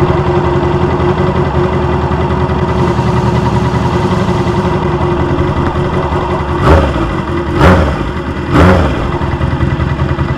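Motorcycle exhaust heard up close through a mechanic's stethoscope, a steady muffled engine drone broken by three sharp revs near the end.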